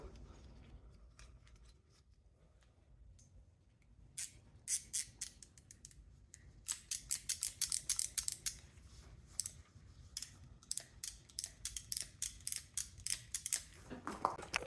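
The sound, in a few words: cutting copper cable ends off a forklift battery charger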